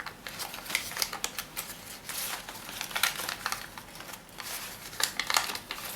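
Paper being creased and folded by hand while making an origami tiger beetle, a close, quiet run of crisp crinkles and soft taps with no talking.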